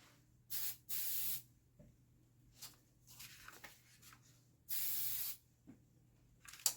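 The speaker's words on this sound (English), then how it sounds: "I'm going to step back so I can go over my can to do a quick spray." Aerosol spray can misting in several short hissing bursts, two longer ones around a second each, with quiet gaps and faint handling noise between.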